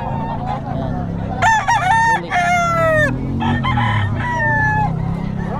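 Several roosters crow loudly and repeatedly at a pet market in Bocaue, Philippines, where birds, chickens and ducks are sold. Long, overlapping crows rise over a steady crowd murmur, with faint clucking in the background.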